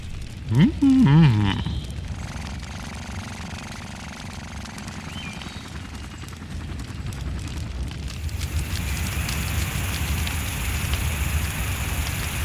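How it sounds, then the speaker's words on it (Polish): A cartoon fire burning and growing larger, a dense crackling, rain-like rush that swells and brightens toward the end, opening with a few wobbling synthetic tones before the steady roar. "O nie! Ogień staje się coraz większy!"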